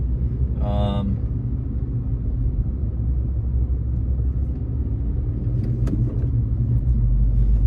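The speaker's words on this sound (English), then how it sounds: "Turns out there is a good amount of traffic" Steady road-traffic rumble fills the whole stretch, heavy and low, with a brief tonal whine or horn-like tone near the start and a faint clank later.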